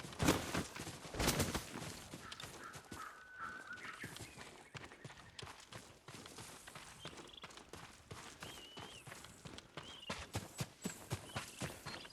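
Horse hooves in the video game Ghost of Tsushima clip-clop in a steady walking rhythm, fairly close, over a soft ambient background with occasional tonal chimes.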